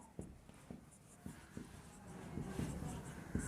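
Pen writing on paper while working a compound interest maths problem, faint close scratching strokes and taps in short bursts, quiet throughout with no talk.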